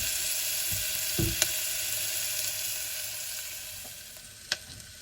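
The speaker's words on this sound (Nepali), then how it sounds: "तेजपत्तालाई हालेको छु र यसलाई यस्तो चलाइदिने" Onion and bay leaf sizzle steadily in a pan for mutton curry, with a few sharp clinks of a spoon stirring against the pan.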